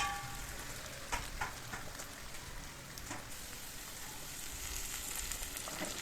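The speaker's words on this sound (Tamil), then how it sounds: "உருளைக்கிழங்கு வந்து நல்லா எண்ணெயிலே வதங்கி வரதால்" Potatoes sautéing in oil in a pan for a vegetable poriyal, a soft continuous sizzle and crackle like light rain, with faint stirring, steady and unaccompanied by voices.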